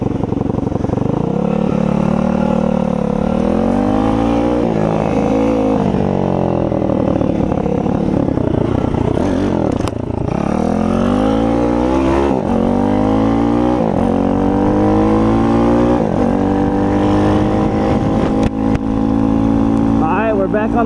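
A Tao Tao 140cc Chinese dirt bike engine while riding, loud and close, its pitch rising and falling as the rider shifts and revs through repeated acceleration sweeps.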